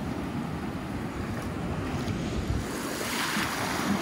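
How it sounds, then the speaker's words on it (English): Ocean surf washes in steadily at a beach, a continuous broad roar of breaking waves mixed with wind buffeting the microphone, with no talking. "Some waves coming in."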